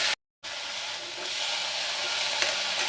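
Bottle gourd leaves sauté uncovered in a pan with a little salt, giving a steady close sizzle and hiss after a brief silent gap, with a faint clink near the end.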